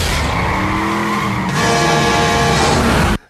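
In a Jeepers Creepers road chase, tyres screech loudly as a truck and car skid, a continuous squeal that intensifies midway and cuts off abruptly at the end.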